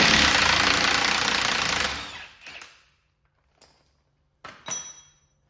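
Two bolts on a Vauxhall Vivaro shock absorber mount are loosened with a 21mm socket and spanner: a loud, steady rattling burst for about two seconds, then a few sharp, separate metallic clanks and clicks close by.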